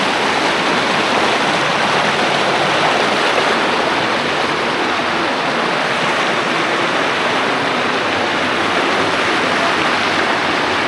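Strong river current at a DVC dam area in Debipur, a loud, continuous roar of rushing water close by, steady throughout with no voices.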